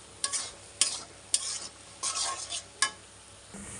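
A spatula stirs vegetables with roasted cumin powder in a pan, giving about seven sharp scraping strokes in an uneven rhythm over a soft, steady sizzle as the water cooks off, close and with no talk.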